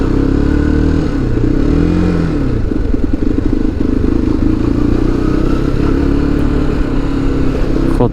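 A motorcycle engine drones steadily and close up during a slow ride through the streets of Alanya, Turkey, with rising and falling pitch as it shifts speed, against constant road and wind noise.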